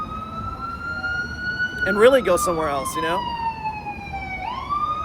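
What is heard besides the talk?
emergency vehicle sirens in New Orleans streets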